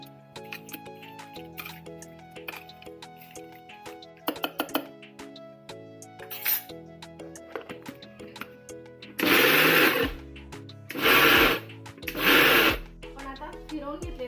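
Coconut garlic chutney being ground in a kitchen mixer, heard as three loud roaring bursts of a few seconds each near the end, after a stretch of background music with small clinks, and a voice talking over the track.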